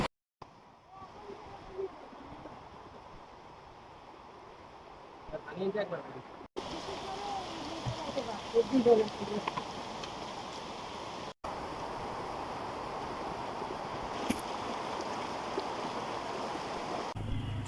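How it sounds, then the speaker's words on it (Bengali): Monsoon rain falls outdoors in rural Noakhali, a steady dense hiss of drops that builds louder partway through, with faint muffled sounds now and then. "এটা আষাঢ়ের বৃষ্টি"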